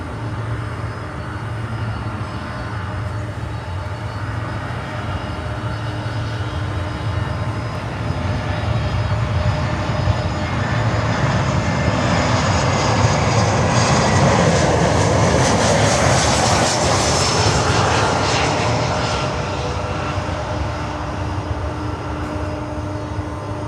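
An American Airlines jet arriving at Miami roars overhead, its engines swelling into a loud, broad rumble that peaks about two-thirds through and then starts to ease off.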